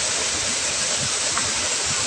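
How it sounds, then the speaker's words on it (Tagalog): Dusi waterfall in a river, a steady, loud, continuous rush of falling and flowing water with no breaks. "Dusi daw talon pala ito"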